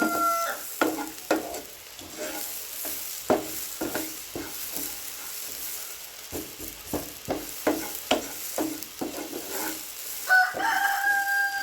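Grated coconut stirred with curry leaves in a frying pan for a Kerala theeyal, giving repeated scraping stir strokes with a light sizzle underneath, fairly close and alone without talk.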